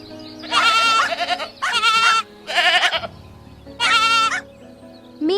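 A baby goat bleats four times in quick succession, each call a loud, wavering, nasal cry close by, with brief pauses between and faint background noise.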